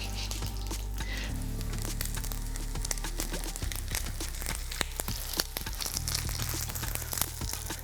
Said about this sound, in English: Now I'm gonna add my oil. Be careful when you're frying anything.